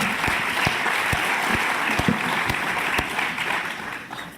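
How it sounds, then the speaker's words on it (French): A French-speaking audience applauds a speaker giving a personal testimony, steady close clapping that holds fairly even throughout with a few distinct individual claps popping through. "Vous pouvez l'applaudir pour lui donner un peu de gingembre."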